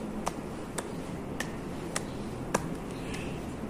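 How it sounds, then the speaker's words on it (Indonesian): One person claps slowly and evenly as part of a dance tempo demonstration, six sharp, spaced claps about half a second apart, fairly faint over a quiet room hiss. "Misalnya Ibu melakukan gerak tepuk tangan gini."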